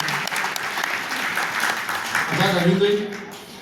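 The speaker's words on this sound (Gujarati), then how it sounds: "એમના માટે જોરદાર તાળીઓ થઈ જાય" An audience claps at a silver jubilee ceremony of a Bharat Vikas Parishad branch in Palanpur, with a dense, sustained round of applause from a crowd that swells slightly near the end and fades over several seconds.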